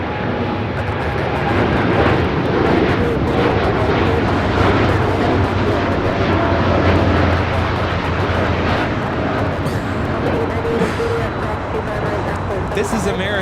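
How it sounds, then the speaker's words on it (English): American Airlines Boeing 787-8 Dreamliner taking off from Los Angeles airport toward Tokyo Haneda, a continuous loud jet-engine roar with a deep rumble that stays strong throughout, and no talking. "This is American Airlines Flight 27 taking off to Tokyo Haneda on the 787-8 Dreamliner."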